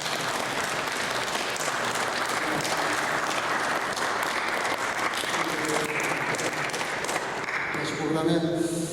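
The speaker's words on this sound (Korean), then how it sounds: "박수로 축복하겠습니다." The congregation at a Korean church's Sunday service in Berlin claps warmly and steadily for about nine seconds in a dense, roomy wash of applause. A voice begins speaking near the end.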